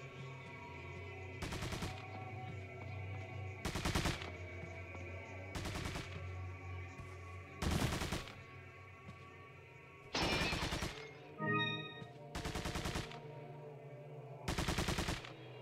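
Bursts of gunfire from Resident Evil 4: Separate Ways, about seven loud, evenly spaced volleys over a steady low game hum, with no talking.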